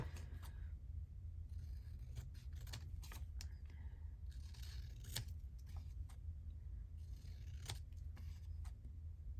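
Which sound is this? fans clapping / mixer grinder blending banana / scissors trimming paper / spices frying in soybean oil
scissors trimming paper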